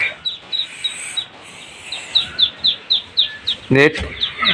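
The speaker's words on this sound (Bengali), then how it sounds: "তো এটা হচ্ছে আমার কুইচা মুরগি" A broody desi hen gives repeated sharp squawks in short bursts, close by, with a louder harsh call near the end over a faint background hum.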